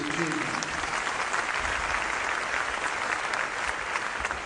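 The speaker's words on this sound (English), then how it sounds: "I think we should give Thailand a round of applause for these achievements." Steady applause from a large audience fills the room at the Indo Pacific Business Forum in Thailand, a dense, even wash of clapping that stays constant and moderately distant throughout.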